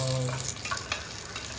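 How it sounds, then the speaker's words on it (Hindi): Oil sizzling and crackling in a pan as tempering spices (tadka) hit it, a soft continuous frying hiss with a few small pops. "अभी मम्मा तड़का डाल रहे हैं उसमें"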